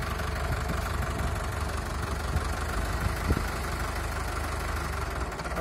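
A Mahindra Arjun tractor engine runs in first high gear at a workshop with a steady, heavy, rumbling drone that is even and continuous throughout, with a faint knock near the middle and no voices.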